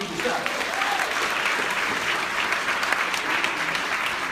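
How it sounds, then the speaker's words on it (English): A large room of about a thousand people breaks into sustained, even applause, dense and continuous from start to finish, with faint voices mixed into the crowd. "Let's give them a big round of applause."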